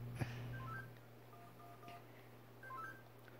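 Cell phone keypad dialing tones from the video game Henry Stickmin Collection, a quick series of short electronic beeps in two bursts over a steady low hum.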